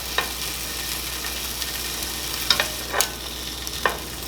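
Marinated hot dogs sizzle steadily in a hot pan as they are turned over, a continuous close frying hiss broken by a few sharp clicks and scrapes from the turning, with no voices.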